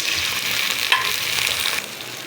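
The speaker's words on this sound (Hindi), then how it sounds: "थोड़ा सा हमें अदरक लहसुन को प्याज में पकाना है।" Ginger garlic paste fries and is stirred in hot oil with browned onions, giving a close, steady sizzle with light scraping.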